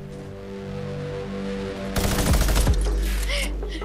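A minigun in the Fortnite video game fires a dense rapid burst of gunfire for about a second in the middle, loud against steady game ambience.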